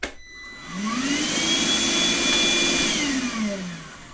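A FLEX vacuum on its low motor speed spins up into a steady airy whine up close, holds for a few seconds, then begins winding down, with no one talking.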